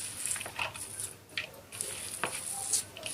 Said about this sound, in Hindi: हाथ की मदद से जो है इसको चिकन के मटेरियल में प्याज अच्छी तरह से मिक्स